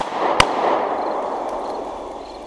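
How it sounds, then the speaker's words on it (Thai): A single sharp gunshot cracks out near the start of an audio-drama scene of shots fired from a car window, followed by a rumbling, washed-out tail and faint ambience. "แล้วยิงสวนออกมาที่แสงสปอตไลท์สองนัดสันสอน"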